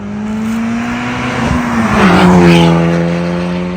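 A Honda Civic Type R FL5 with its center muffler deleted revs loud and close, its droning exhaust note swelling to a peak midway and then settling back, heard alone.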